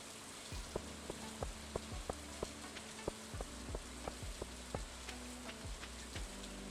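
Rain falls in the Stardew Valley video game as a steady hiss, with sharp ticking drips repeating at an uneven rhythm throughout.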